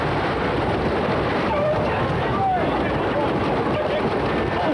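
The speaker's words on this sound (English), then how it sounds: "look at those waves breaking across Stars and Stripes now" Big waves crash and wash across the Stars and Stripes 12-metre racing yacht in the 1987 America's Cup off Perth, Australia, a loud, continuous roar of water and wind with no break.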